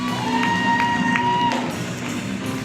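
Graduation ceremony crowd at a high school cheering and applauding together, a steady broad wash of clapping with a few shouts and a sustained tone over it.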